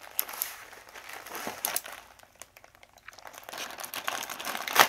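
Packaging crinkling during the unboxing of an anniversary SaGa RS gift package, uneven close rustles and crackles of paper or plastic that come in bursts and grow louder toward the end.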